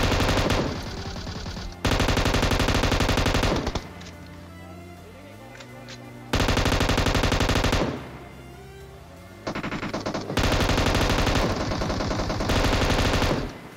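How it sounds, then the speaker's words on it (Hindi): Automatic gunfire from PUBG Mobile gameplay, loud rapid bursts of several seconds each separated by quieter stretches with game sounds, repeating in a stop-start rhythm. "अब जो शॉट्स मैं मारूँगा वो शॉट्स जो मैं देखने लायक होंगे"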